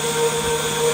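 An old KitchenAid stand mixer whips cream toward butter, giving a steady, loud motor whir with a constant high whine and no break in the drone.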